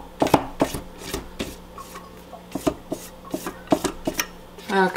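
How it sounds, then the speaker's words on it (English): A spatula scrapes down the sides of a Multo cooking robot's mixing bowl, giving a run of close, sharp scraping and knocking strokes in an uneven rhythm, with no talking. "Use spatula to scrape down sides of the mixing bowl."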